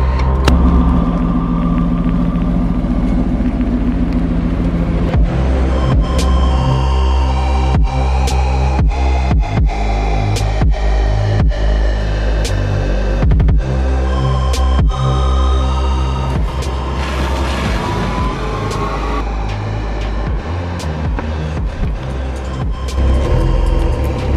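A salvaged Porsche Boxster's engine runs right after starting up, holding a loud, steady rumbling idle with sharp ticks and clicks through it.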